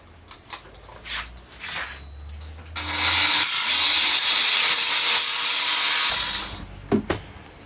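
A power grinder cuts into a metal notch to leave a flat 90-degree surface, a loud, harsh, steady whine lasting about three seconds, with quieter scrapes and knocks before and after.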